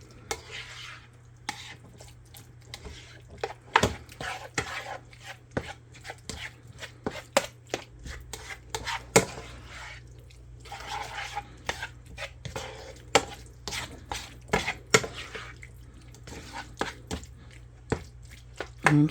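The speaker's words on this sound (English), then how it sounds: "Now that sour cream should be nice and easy to mix in." Stirring sour cream into ground beef stroganoff in a pan, irregular close scraping and clinking of a utensil against the pan, with soft wet squelches over a low steady hum.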